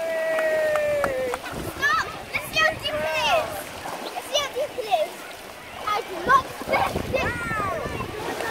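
Children jump and splash into a large paddling pool at the beach, with loud choppy water splashes and excited children's shouts and chatter throughout.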